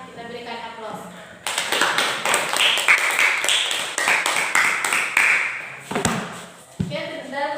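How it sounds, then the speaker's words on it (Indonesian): Classroom applause for a student discussion group fills the room, a burst of many hands clapping loudly for several seconds before tapering off, with voices speaking briefly before and after. "Kita berikan aplaus"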